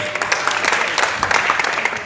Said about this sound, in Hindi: एक आस्था के लिए ताली हो जाए।